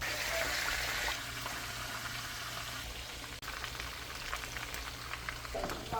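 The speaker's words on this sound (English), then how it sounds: "Now it's time to dip that chicken in that batter, baby. And put it in that frying pan." Steady sizzling and crackling of battered chicken frying in hot oil in a frying pan, fairly quiet, with a low hum in the background and no talking.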